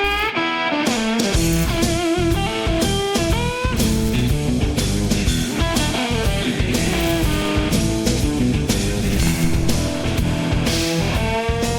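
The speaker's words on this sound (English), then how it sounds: "asked it to generate me a blues guitar solo" An AI-generated blues guitar solo made with Udio plays continuously with band backing, full of bending, expressive lead notes over a steady rhythm, loud and uninterrupted.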